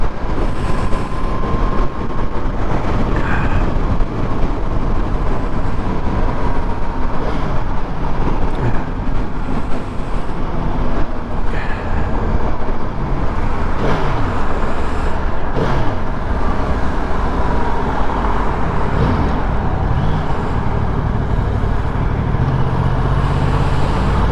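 Loud, continuous road and traffic roar from riding a Yamaha R1 superbike in Southern California, a dense rumble with passing vehicle swells and no talking.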